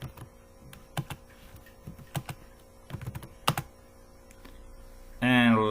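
Computer keyboard typing C++ code, scattered clusters of sharp key clicks at close range with pauses between bursts, ending in a brief louder noise burst.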